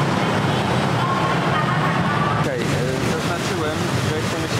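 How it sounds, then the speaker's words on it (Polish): Traffic roars loudly and continuously along a main street in Bangkok, with engines and road noise close by. "dochodzimy do głównej ulicy i jest na maksa głośno"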